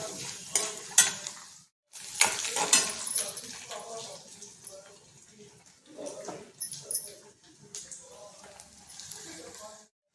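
Ragi poha mixture with curry leaves and crushed peanuts being roasted and stirred in a pan, with soft intermittent scraping and light sizzling under a quiet voice speaking.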